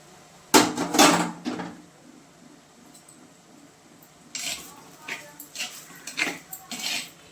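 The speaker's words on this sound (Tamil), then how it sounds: "இப்போ லைட்டாக எடுத்து கிண்டி விடலாம்" Pearl millet porridge stirred in a pot with a spoon, steady scraping and clinking bursts near the start and again toward the end, with quieter gaps in between.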